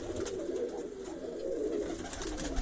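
A pigeon coos in low, repeated soft calls against a steady background hiss, with no talking.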